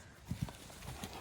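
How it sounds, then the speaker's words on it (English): A horse's hooves strike the ground in a brief small canter during loose jumping at an equestrian yard, two quick close thuds followed by a couple of softer steps. "that's just because Coop did that tiny little canter"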